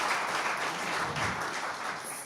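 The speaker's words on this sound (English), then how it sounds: "I'd like a little applause from them right now." A congregation at a Friday evening service applauds the chorus, a brief, even burst of many hands clapping together that fades slightly at the end.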